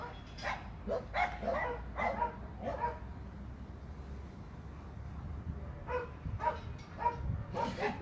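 Puppies give bursts of small, quick barks and yips, two clusters at the start and end with a quieter stretch between, fairly close but not loud.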